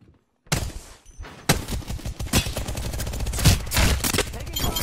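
Rapid bursts of automatic gunfire in the Apex Legends video game on Xbox, a silent gap then dense, loud sustained volleys with clattering shots, with occasional talk mixed in.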